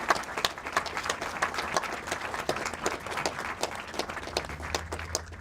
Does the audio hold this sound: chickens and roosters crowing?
no